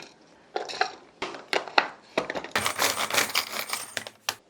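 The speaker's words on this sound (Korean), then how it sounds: "잘라놓았던 고추도 다져줄게요." A knife minces cut chili peppers on a cutting board, with brisk irregular chopping taps that build into a dense rapid run of close, crisp strikes.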